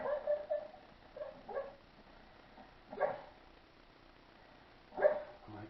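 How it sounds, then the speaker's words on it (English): A pet dog dreaming in its sleep gives soft muffled yips and whimpers, a few quiet, scattered bursts separated by near silence. "That's my doggy dreaming."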